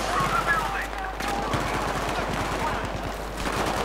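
Battlefield 3 gunfire rattles in rapid bursts of automatic shots, close and loud, through most of the stretch, with the crackle easing briefly before picking up again.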